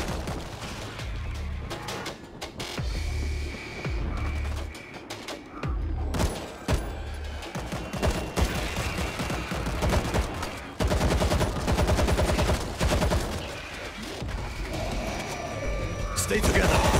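Automatic turret gunfire rattles through a World War Z battle in Tokyo, sustained and dense with bursts that swell and ease, mixed with other combat noise while voices speak over it.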